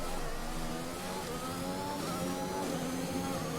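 An F1 car coasting around Monaco in F1 2021, its engine giving a steady, mid-pitched drone with layered harmonic whine that holds at a constant level throughout, with no talk over it.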